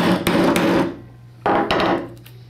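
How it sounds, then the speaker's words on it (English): Two sharp hammer taps drive a snap fastener into a strap through a punch, each a solid close knock with brief ringing, separated by a short pause. "with a hammer, I'm just going to tap it in there"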